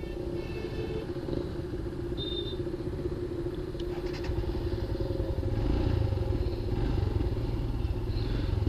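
Rumbling engine of a Royal Enfield Himalayan motorcycle, idling close by with low clatter and growing louder toward the end, no voices over it.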